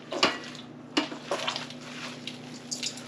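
Venison stuffing being mixed with olive oil in a bowl, close wet squelching and scraping with a few sharp knocks of utensil on the bowl, irregular and fairly quiet.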